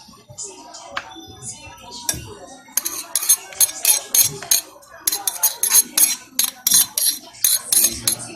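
Ingredients for ampalaya rings with meat being mixed by hand in a bowl, with repeated clinks and scrapes of utensils against dishware, growing busier and more rhythmic in the second half, close and moderately loud.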